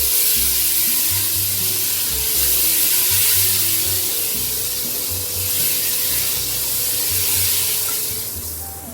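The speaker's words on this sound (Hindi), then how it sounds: "200 ग्राम दही लिया है और उसे फेंट कर दही डाल देंगे हम। इसे हम 5 मिनट तक भूनेंगे।" Whisked yogurt added to beef paya masala frying in a pan, giving a steady broadband sizzle and hiss that stays loud throughout, with low rumbling stirring underneath and no talk.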